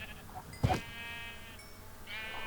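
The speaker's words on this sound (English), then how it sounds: "I kept going and whacking sheep to see if any of them would drop anything" Sheep in the Minecraft video game give a few soft, brief bleats at low volume, spaced apart with one sharp hit-like thump in between.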